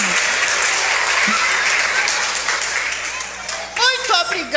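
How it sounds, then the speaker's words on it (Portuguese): Loud audience applause for an elderly woman at a Brazilian church gathering, steady dense clapping filling most of the stretch before thinning out as voices come in at the end. "Palmas pra vovó Mariquinha."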